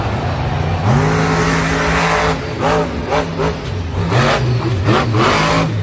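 A monster truck engine at a Monster Jam event in Santa Clara revs hard and loud, climbing and falling in repeated surges over a roaring arena background.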